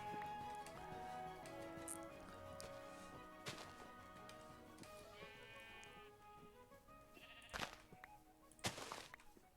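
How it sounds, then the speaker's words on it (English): Sheep bleating in the Minecraft video game: one clear, wavering bleat rings out mid-clip among other soft in-game sounds and a few sharp clicks. "Sheep!"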